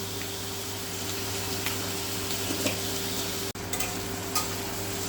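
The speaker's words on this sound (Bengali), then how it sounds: "এখানে আমার ক্যাপসিকাম আর পেঁয়াজটা এরকম করে ভেজে নিয়েছি" Capsicum and onion fry in a pan for paneer chilli, giving a steady close sizzle with occasional stirring scrapes and a brief dip near the end; no one speaks.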